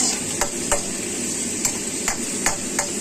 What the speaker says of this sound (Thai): หมูสามชั้น กับหมูเนื้อแดงมาผสมกันนะครับ